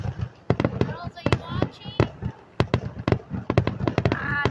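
Fireworks at a July 4 show at Vernon Downs pop in a rapid, irregular series of sharp bangs and crackles at moderate distance, with voices talking between bursts.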